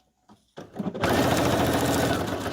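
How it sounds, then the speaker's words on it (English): A sewing machine stitches fabric journal tags. A few soft handling knocks lead into a steady, close, continuous whirring run of stitching. "sewing this one on the inside. I'm going to run a little bit with a stitch over that"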